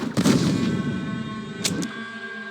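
Gunshots ring out during a battle in the western game Red Dead Redemption, a heavy booming report followed by a fading echo and a couple of sharp distant cracks.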